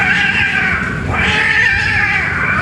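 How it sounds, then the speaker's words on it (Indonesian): Neighbourhood cats fighting, a continuous loud yowling and caterwauling with wavering pitch over nearly three seconds, close and dominant with no talk. "kucing tetangga tengkar guys"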